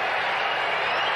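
A football stadium crowd at a 1981 Seahawks at Oilers game roars on its feet, a brief, loud, dense wash of cheering and applause with no clear speech.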